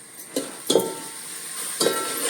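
Spice masala sautéing in oil for a village-style country chicken curry, a quiet steady sizzle with two or three distinct spoon scrapes and stirs in the pan.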